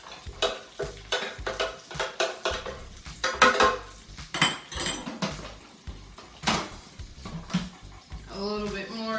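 A utensil scrapes down the sides of a blender jar holding a vinegar and olive oil sauce, giving repeated close clinks and scrapes in an irregular rhythm. A short whir comes near the end.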